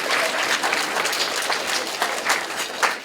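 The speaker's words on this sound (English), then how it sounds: "Yeah, you can clap, it's all right." Audience at a 40th band banquet applauding, a dense steady wash of clapping from many hands throughout.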